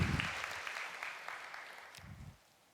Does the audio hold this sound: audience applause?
yes